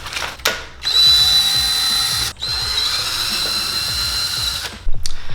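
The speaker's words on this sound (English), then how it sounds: "get the drill up underneath of it" A power drill whirs loudly in long sustained bursts, drilling holes underneath a Volkswagen Golf GTI Mk7 to install a rear diffuser, stopping briefly between runs, with clicks and rattles in the pauses.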